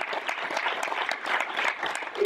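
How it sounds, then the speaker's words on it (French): Audience applause fills a round-table session at an agricultural high school in Vire: dense, steady clapping from a sizeable crowd, close and continuous for the whole stretch. "je pense qu'on peut les applaudir"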